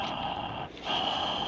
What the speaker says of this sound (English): Stop breathing your mic so goddamn loud.